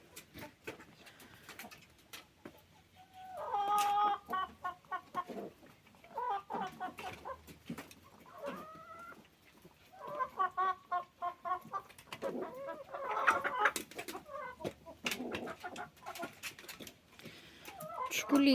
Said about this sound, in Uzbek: Şu tovuqlarim qoldi faqat